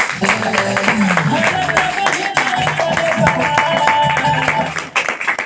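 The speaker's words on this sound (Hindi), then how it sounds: "तो एमबी सिद्दीकी सर के लिए बहुत जोरदार ताली होनी चाहिए" Loud applause from a crowded audience at a talk, steady clapping mixed with voices and murmuring that runs the full length before easing briefly near the end.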